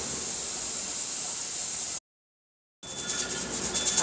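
Steady hiss of steam venting from a pressure canner's rocking weight while beans are canned on a burner, broadband and continuous, cut by a brief dropout before the hiss resumes with faint fluttering.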